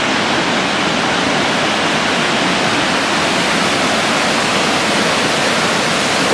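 Looking Glass Falls, a waterfall, roars in a steady, dense broadband rush of falling water that stays loud and unbroken throughout, with no voices heard.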